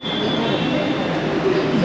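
A Pune metro train at the station gives a steady, loud rumble and hiss throughout, with faint voices in the background.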